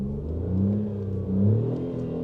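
A MINI car engine revs twice in quick succession, each rise and fall a low steady rumble heard close with no talk.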